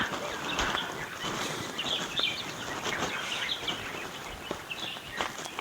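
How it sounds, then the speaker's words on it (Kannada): Faint bird chirps scattered over a steady outdoor hiss at a quiet stone temple beside a pond in Bannur, Karnataka, with occasional rustles and soft footstep-like thuds; no one speaks. "ಸೈಲೆಂಟ್ ಆಗಿದೆ ನೋಡಿ ಹೆಂಗೆ ಕೇಳಿಸುತ್ತೆ ಪಕ್ಷಿಗಳ ಸೌಂಡ್"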